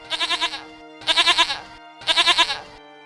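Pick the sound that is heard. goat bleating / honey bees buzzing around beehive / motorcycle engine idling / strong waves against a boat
goat bleating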